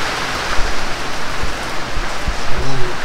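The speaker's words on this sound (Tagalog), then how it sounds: "Maulan eh" Steady rain falling on a surface during stormy, windy weather, a dense hiss of drops with a few louder patters, a faint voice briefly underneath.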